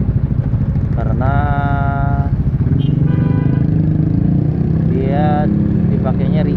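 A Kawasaki Estrella 250 motorcycle rides along a road, its engine giving a steady low rumbling thrum throughout while someone talks over it.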